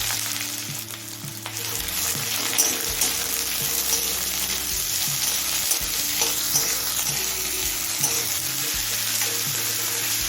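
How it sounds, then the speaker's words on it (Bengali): A large, thinly sliced onion frying in oil with cumin and a bay leaf, hissing and sizzling steadily in the pan while a spoon stirs it with soft scrapes, close and continuous, with no one speaking. "নাড়তে নাড়তে পেঁয়াজটা হালকা লাল করে ভেজে নেব"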